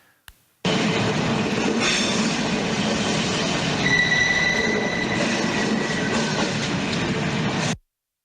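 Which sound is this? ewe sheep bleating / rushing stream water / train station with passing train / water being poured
train station with passing train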